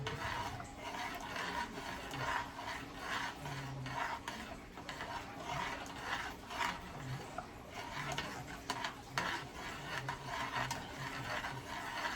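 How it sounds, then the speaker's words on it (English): Coconut milk cornmeal porridge is stirred in a pot, producing a steady, close, rhythmic rubbing and scraping that continues without a break and with no voices over it. "You gotta keep stirring this thing, man."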